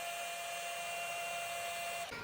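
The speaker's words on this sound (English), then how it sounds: "now nothing left to do but drill the hole" A power drill bores a steady hole through a punch-marked AE86 subframe during a Celica engine swap, a close, continuous high whine that cuts off abruptly near the end, with no talking.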